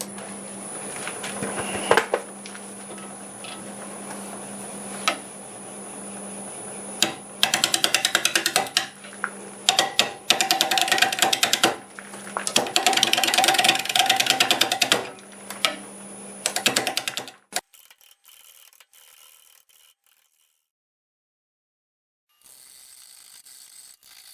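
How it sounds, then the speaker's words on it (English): Wood lathe spinning a partly rotten hazel blank at about 550 RPM as a 5/8 bowl gouge cuts, giving steady hum with repeated rough, chattering scraping bursts, close and loud, before stopping into near silence. "I'll start with a 5/8 bull gouge. We're turning about 550 RPM."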